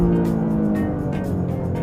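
Lexus LBX Morizo RR hot hatch with 300 horsepower and all-wheel drive, pulling hard on a racetrack, with a loud, steady engine drone and road roar close up and brief swells as the revs climb.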